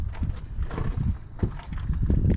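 Gusty wind buffets a microphone outdoors beside a 2014 Ford Focus under repair, a continuous low rumble swelling and dipping in loud bursts across the whole stretch with no talk.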